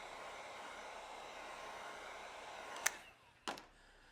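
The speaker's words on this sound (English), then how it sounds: "Have somebody here with the heat gun." A heat gun blows a steady, even hiss while warming vinyl graphics on a ProBoat Super Sonicwake 8s RC boat, with two short sharp knocks near the end.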